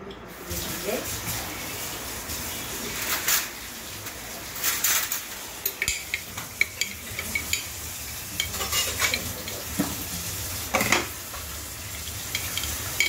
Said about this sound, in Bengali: এই ধনেপাতা দিলাম, নেড়ে দিচ্ছি